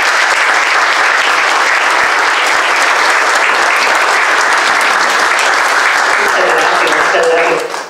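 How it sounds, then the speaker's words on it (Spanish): Dense, loud audience applause fills a library hall at the reopening of a restored Juan O'Gorman mural, sustained for about eight seconds before cutting off at the end. "Un aplauso para Ángel"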